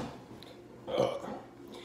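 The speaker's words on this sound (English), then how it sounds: "Sorry that I'm burping so much" A single gurgling burp after drinking champagne rises briefly in the middle of a quiet moment, soft and close, with a faint after-rumble.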